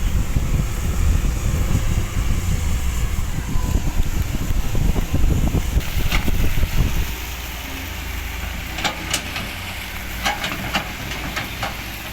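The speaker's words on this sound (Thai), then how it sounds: "ลมแรงมาก" Strong wind buffets the microphone at a sand-washing construction site with a water pump nearby. Heavy, blustery roaring fills the first seven seconds, then eases to a softer hiss with faint crackles.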